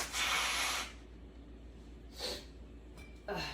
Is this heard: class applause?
no